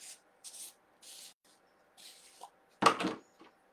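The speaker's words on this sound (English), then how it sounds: "then I'm just pressing it into the screen portion of my stencil" Squeegee pushes chalk paste through a stencil screen in short scraping strokes, several brief rubs with pauses between and one louder scrape near the end, close and quiet.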